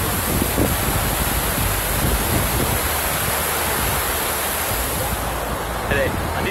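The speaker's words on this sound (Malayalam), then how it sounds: "ഇതാണ് നമ്മുടെ മെയിൻ ഷട്ടറിൻ്റെ ഏരിയ. ഇതിലൂടെയാണ് വെള്ളം താഴോട്ട് പോകുന്നത്." A continuous, heavy rush of water pours down through the main shutter of Malampuzha Dam, a dense, even roar like surf that stays loud throughout, with wind buffeting the microphone.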